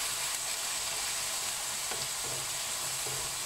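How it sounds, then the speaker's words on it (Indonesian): Onions sautéing in a pan for Malay-style Singaporean ayam kicap give a steady, even sizzle throughout, close and moderately loud, with a few faint utensil stirs and no talking. "ini tumis si bawang ini sampai"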